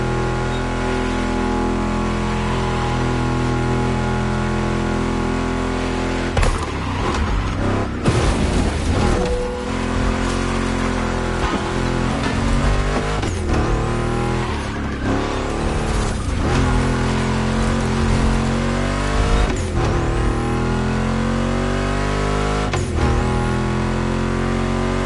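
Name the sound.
Ford Mustang GT muscle car engine in video game The Crew Motorfest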